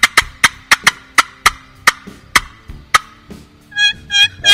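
Sharp, rapid cutting notes from a turkey box call, about a dozen staccato clucks in an uneven burst, then a few higher yelps at the end.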